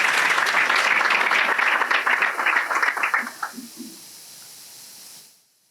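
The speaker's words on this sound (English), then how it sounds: "Please give them another round of applause." An audience at a governor's New Year reception applauds loudly, the clapping thinning into scattered claps before fading to quiet room tone.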